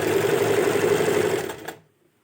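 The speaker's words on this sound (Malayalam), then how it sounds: "ഫുള്ളായിട്ട് സ്റ്റിച്ച് ചെയ്യാം നമുക്ക് എത്രയാണോ വേണ്ടത് അതിനനുസരിച്ചിട്ട് ഒന്ന് സ്റ്റിച്ച് ചെയ്തെടുക്കുക" A sewing machine stitches fabric piping made from leftover scrap material, running in one loud, continuous close-up burst for about a second and a half before winding down and stopping, leaving silence.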